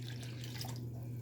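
Water is poured into a cooking pot of rice and beans to top up the liquid, a soft continuous splashing and trickle heard close up but faint, with no talking.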